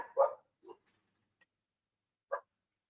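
A dog barks a few times in short, separate yelps, quiet and a bit distant, with silence between the barks.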